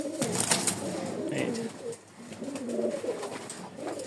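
A female tumbler pigeon gives a series of soft, throaty coos close by, rising and falling in short repeated phrases with a brief lull midway.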